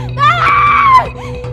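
A woman in a television drama lets out a short, shrill, wavering scream for help, close and loud over a steady low hum, ending in a brief sob-like whimper.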